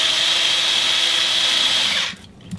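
A power screwdriver driving screws into an RC car body, a loud close whining motor hum held steadily for about two seconds before cutting off, followed by brief faint clicks.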